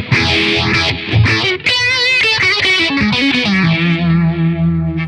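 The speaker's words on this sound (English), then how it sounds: "And a phaser." Electric guitar played through a phaser effect on a VOX StompLab IG modeling processor, a loud distorted riff of quick notes settling into a held chord, with a swirling, rising-and-falling sweep over the tone.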